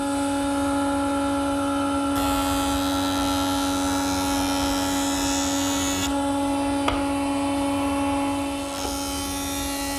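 A jointer machines a wooden front rail for a planter's desk, a steady loud motor whine with strong hum tones running throughout, the cutting noise swelling and easing as the board passes over the knives.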